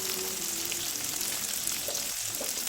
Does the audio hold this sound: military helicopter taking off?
no